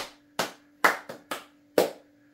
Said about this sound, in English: Honorable Adeboye, clap for him.